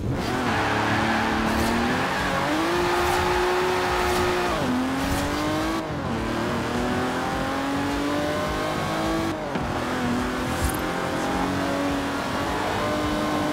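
A racing car in Forza Horizon 4 drives hard, its engine revving up and down through gear changes in a loud continuous roar with brief tire squeals.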